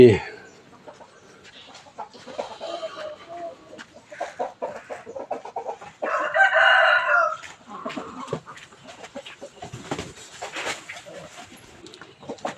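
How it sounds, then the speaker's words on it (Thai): Chickens and a rooster waiting for food at a temple in Lampang, Thailand, cluck and squawk in short irregular bursts close by, with one louder crowing call in the middle. "ก็ไก่ก็ไก่ ไก่ก็รอกินอาหารเหมือนกันแล้วลูก"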